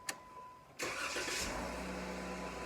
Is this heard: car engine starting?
yes